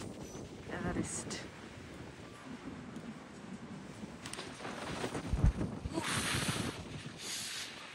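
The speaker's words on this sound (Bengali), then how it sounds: "বিভৎস হাওয়া, এখানে বিভৎস হাওয়া" Fierce wind buffets the microphone on the Sandakphu trek ridge, roaring in strong gusts that swell and fade around a voice talking.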